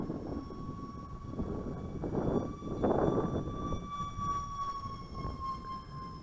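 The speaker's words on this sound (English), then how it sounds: "Love the sound of them twin EDFs." Twin electric ducted fans on a UMX A-10 RC jet whine steadily outdoors, with a high tonal hum that swells louder around the middle as the model makes a close pass, then eases off.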